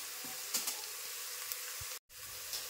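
Onion and green chili frying in a pan, a steady close sizzle with a few soft stirring clicks and one brief moment of silence.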